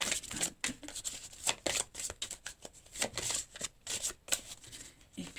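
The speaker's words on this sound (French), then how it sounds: "je prends une deuxième carte" Tarot cards are drawn and handled close by: a rapid series of dry shuffling flicks and papery slides in uneven bursts, moderately loud, with no talking.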